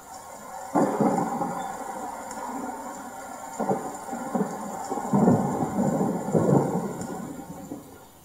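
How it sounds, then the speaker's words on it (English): A thunderstorm rolls in with steady rain, as staged in a stage play: heavy rumbling thunder swells repeatedly over a constant hiss of rainfall, loud and broad with several distinct rolls, no voices. "A storm was coming, the sky grew heavy with clouds."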